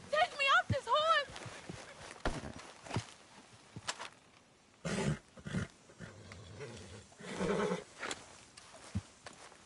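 A horse neighs loudly in a quavering burst at the start, followed by scattered hoof knocks and rustling, with voices speaking in between.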